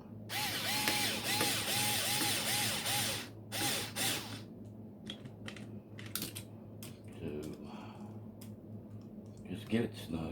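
Nuts with nylon lock washers are snugged onto the acrylic panels of a Crowbar Circuit Minibar kit, giving a quick run of ratcheting clicks at the start and then sparse taps and clinks. Someone talks over the work.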